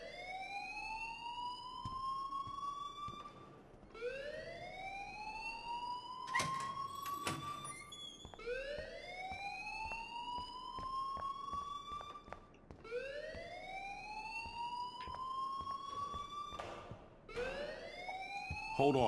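A school fire alarm in the video game Life Is Strange wails in loud, steady rising sweeps, each cycle repeating about every four to five seconds without a break and filling the whole stretch.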